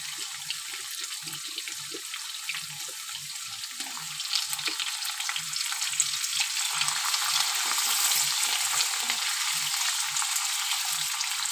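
Chopped potato frying in a pan for a shrimp and banana flower curry: a continuous hissing sizzle that grows louder partway through, with soft stirring knocks underneath and no talking.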